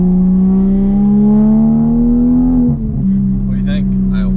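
A Toyota A90 Supra engine pulls hard and loud, rising in pitch over a couple of seconds before a quick shift dip, then settling into a steady drone with faint chatter in the background.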